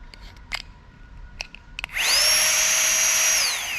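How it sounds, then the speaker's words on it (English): A tiny electric air pump for a sleeping pad whirs on after a few faint clicks and handling sounds, holding a loud, steady high-pitched motor drone with a rising then settling pitch until the end. "It's just a tiny little pump."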